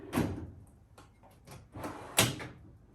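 On a large 44-inch US General rolling tool box, a metal drawer is pulled out and pushed shut several times, giving sliding rumbles that end in a sharp, loud closing clunk.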